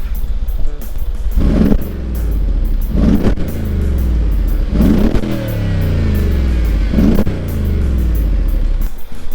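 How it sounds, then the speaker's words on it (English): A 2013 Mercedes-Benz G63 AMG with its twin-turbo V8 revved while parked, several loud throttle blips rising and falling over a steady deep idle, close to the exhaust. "I'll rev the engine a little bit so you can hear some of that twin turbo V8 music"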